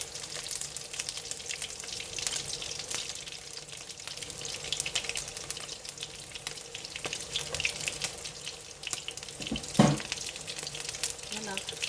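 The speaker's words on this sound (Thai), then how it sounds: "ทอดให้แป้งกรอบนะคะ" Hoi tod batter of mussels frying crisp in a pan, a steady, bright hiss and crackle of sizzling oil running throughout, with one sharper clatter near the end.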